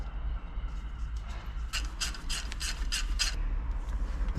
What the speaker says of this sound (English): Fit the screw.